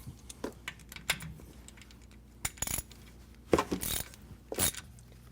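Bolts coming off a Ford F-150 differential cover during a 4.56 gear install, heard as scattered sharp metallic clicks and clinks of tools and loose bolts, close and fairly quiet, with no talking.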